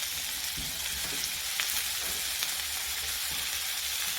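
A cabbage omelet lined with onion rings frying in a pan over low heat, giving off a gentle, even sizzle with faint crackles and no voices.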